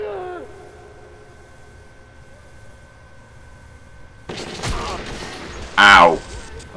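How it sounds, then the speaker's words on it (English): A hand grenade goes off in the post-apocalyptic shooter Metro 2033 amid muffled game ambience, landing as a sudden loud blast and crash followed by a second harsh burst, close and alone. "That's another hand grenade. It hit me through the fucking wall!"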